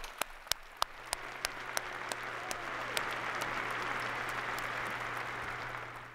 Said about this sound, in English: That's worth applause, too.